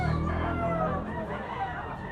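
Rooster crowing amid other chickens at a chicken auction market, a clear crow in the foreground over a murmur of voices and clucking.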